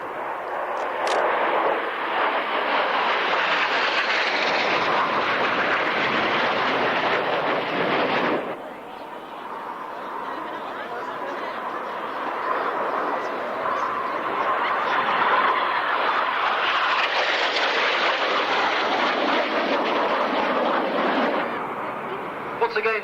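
Display team jets roar past at the 1995 Woodford Airshow, a long, loud, rushing swell that dips in the middle and then builds again as more aircraft pass, with a commentator talking over it.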